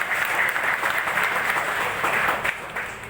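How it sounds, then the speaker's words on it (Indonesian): An audience at an Indonesian gathering gives a round of applause, a full, continuous burst of clapping from many people that fades slightly toward the end. "Kita kasih tepuk tangan buat teman-teman."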